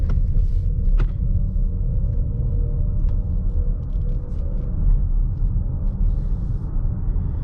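A Lincoln Corsair Grand Touring plug-in hybrid cruising in all-electric mode at about 25 mph, heard from inside the cabin: a steady low road rumble and tire hum with faint ticks, no engine note.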